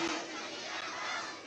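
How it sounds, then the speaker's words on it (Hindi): A large crowd at a political rally in Tonk roars with cheering and applause, a dense, continuous wash of voices and clapping close by that holds steady for the whole stretch. "एक बार जोरदार तालियां होनी चाहिए, जयकार होना चाहिए"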